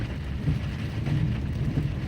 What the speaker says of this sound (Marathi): तुम्ही बघू शकता अतिशय जोरदार असा पाऊस आहे